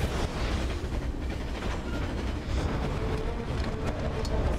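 A moving train in the video game Metal Gear Rising gives a dense, steady rumble with rhythmic clatter running through the whole few seconds, loud and close with no voices over it.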